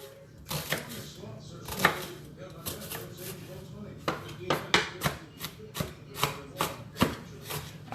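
A knife chops an onion on a cutting board in a home kitchen, a run of sharp taps that starts scattered and then settles into a quicker, steady rhythm of close, crisp strikes.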